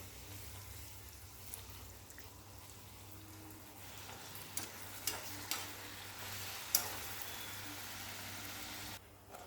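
Puris deep-fry in hot oil over a full gas flame, a steady faint sizzle with occasional light clinks and taps of a utensil, close but quiet, with no voices.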